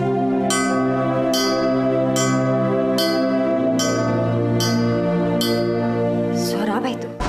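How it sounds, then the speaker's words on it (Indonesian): A bell rings out repeatedly in a royal kingdom drama, its struck notes landing at a steady, even pace with a sustained ringing tone that carries through the whole stretch before cutting off. "Kenapa tiba-tiba suara lonceng berbunyi?"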